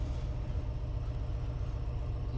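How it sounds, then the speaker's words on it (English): A train engine idles in the Train Sim World game on a snowy Boston local run, a steady low rumbling drone with no change in pitch through the short stretch. "So just to confirm, we're idling."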